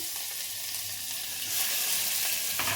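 Chopped onion and cumin fry in oil in a pressure cooker, a bright, continuous sizzle with a brief stirring scrape near the end, close and alone without speech.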